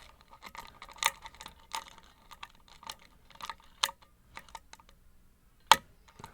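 Small metallic clicks and taps from picking a Yale 6-pin mortise cylinder lock held upside down, irregular and close, with one sharp louder click near the end and quiet handling between.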